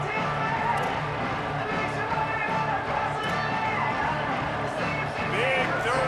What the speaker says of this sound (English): this crowd is getting behind this defense. Deafening noise.